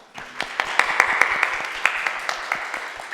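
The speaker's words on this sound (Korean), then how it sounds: "우리 박수로 환영하겠습니다" A church congregation at a Sunday service claps to welcome a newly registered elder, individual hand claps audible as sharp distinct strikes over a steady crowd patter, moderately loud and close.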